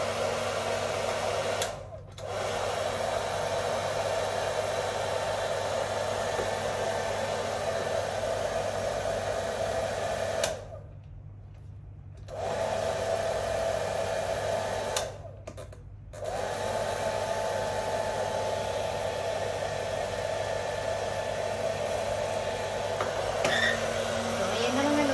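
A portable clothes dryer runs with a loud, steady whirring roar and a constant hum. It cuts out briefly twice, for a longer gap near the middle and a short one later, before resuming.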